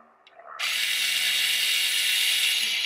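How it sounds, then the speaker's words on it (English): A rear electric parking brake motor on a 2019 Toyota RAV4 whirs steadily after a brief click, a close, even motor hum running without pause. "You're gonna hear the motor going"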